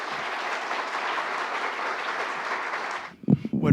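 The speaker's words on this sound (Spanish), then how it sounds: "recibamos al doctor Yepes con un aplauso, por favor." A seated audience applauds to welcome a doctor invited to speak at a business administration talk, a dense, even roar of clapping that stops abruptly near the end, followed by a few close, louder sounds.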